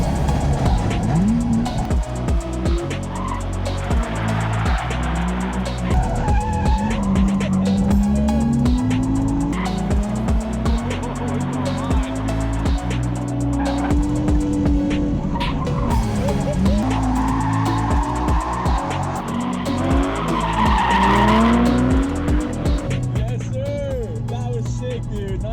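A drift car slides through long skids, tires squealing in drawn-out wavering wails over a steady revving engine, heard close from inside during a ride-along, with occasional voices.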